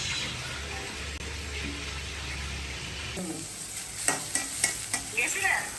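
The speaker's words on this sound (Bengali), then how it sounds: "ডাল আর ইয়ে একসাথে আমরা এখন মিক্স করব" Dal for about twenty people is stirred in a large cooking pot at a small Eid-e-Milad gathering. A steady hum comes first, then several rhythmic clanking stirs against the metal rise near the end.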